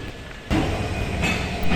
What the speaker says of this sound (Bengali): একটা ট্রেনের ইঞ্জিনটা চেঞ্জ করতেছে এবং আমি দাঁড়িয়ে আছি লাস্ট প্ল্যাটফর্মে